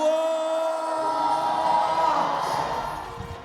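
A stadium crowd at an RWS Rajadamnern World Series Muay Thai event cheers a fighter's introduction. A steady roar fills the space, with a sustained tonal sound ringing over it at first.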